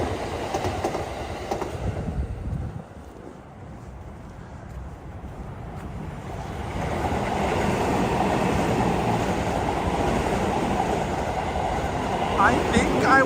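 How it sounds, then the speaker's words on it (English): A Yamanote Line train rumbles past on tracks hidden behind roadside bushes in Tokyo, its roar dipping briefly and then swelling into a loud, steady rush of rolling wagons with faint wheel clatter. "So it gets a little bit loud every time a train is passing."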